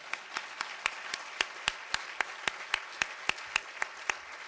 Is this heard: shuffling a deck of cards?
no